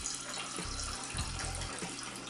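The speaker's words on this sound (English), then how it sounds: "And now I'm just going to add the distilled water." Distilled water poured into a container for making pink ormus with Himalayan salt, a steady soft trickling stream, close and fairly quiet.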